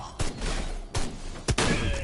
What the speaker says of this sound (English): You gotta dodge the shots.